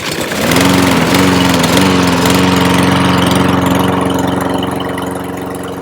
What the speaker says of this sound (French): on va démarrer la tondeuse